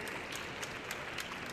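An indoor audience applauds after a team presentation at an innovation-solutions game final, a steady dense patter of many hands clapping throughout, moderately loud, with no talking.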